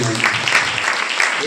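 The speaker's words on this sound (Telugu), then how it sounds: "చప్పట్లు కొట్టి ప్రభువు" Congregation clapping at a Telugu Christian prayer service, a steady wash of applause with voices mixed in, moderately loud throughout.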